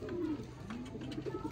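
Soft, low pigeon coos murmur close by from a pair of blue-eyed pigeons, with a faint scratchy background and light bubbling calls toward the end.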